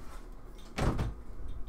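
A closet door is shoved open against weights stacked in front of it, giving one short, loud scraping thud amid quiet room noise.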